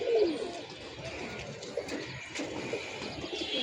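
Young pigeons coo softly in a loft after release, with low rolling calls repeating steadily and faint chirps and rustling around them, at moderate distance.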